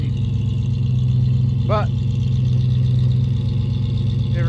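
A rusty Dodge Ram truck engine runs steadily at idle after an engine fire, a loud constant low rumble throughout with a brief spoken word over it.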